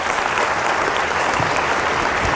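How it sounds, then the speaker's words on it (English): An audience gives a round of applause for people in foster care: thick, steady clapping from many hands, loud and continuous with no voices over it. "Can we give them a round of applause?"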